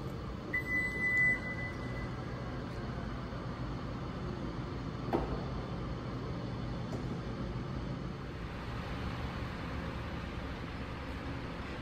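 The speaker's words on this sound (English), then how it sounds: "we can open and close the tailgate of the vehicle" Power tailgate of a 2023 Lexus NX350 F Sport, operated by a kick sensor: a short warning beep at the start, then a quiet, steady motor hum with a soft latching knock partway through.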